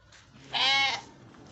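A sheep being tied up gives one loud, close, wavering bleat lasting about half a second, with quiet background before and after.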